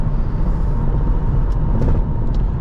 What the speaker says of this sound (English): You do get a little road noise in this car